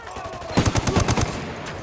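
Gunfire in the video game Ghost Recon Wildlands, a rapid automatic burst of roughly eight sharp shots over under a second, loud and close against a steady game background.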